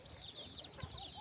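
Free-range country hens on a goat and poultry farm give soft, intermittent clucks, with one brief louder call standing out over a steady background hiss.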